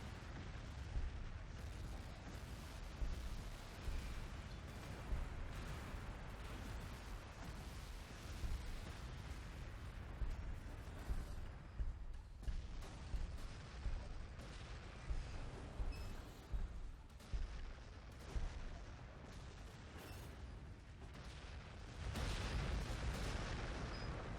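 Continuous rumbling artillery barrages from the Warhammer 40K Gladius: Relics of War strategy game, with repeated booming impacts and bursts over a dense, sustained roar lasting throughout.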